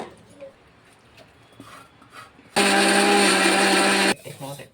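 A mixer grinder blends fried mint and tomato into chutney, starting abruptly after some quiet kitchen noise and running loud and steady for over a second before cutting off.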